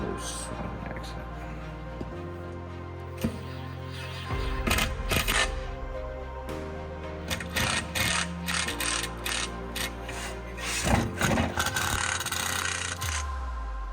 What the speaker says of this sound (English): we've got all 4 of our torque screws snugged down with the impact gun just for time's sake